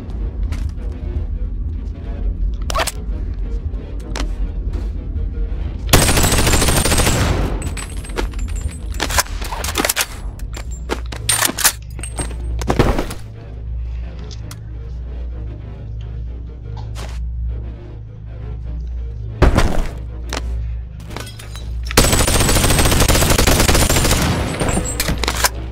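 Gunfire in the VR game Boneworks: bursts of loud, rapid shots and single sharp cracks scattered throughout, over a low steady game-ambience rumble, with two extended sustained volleys.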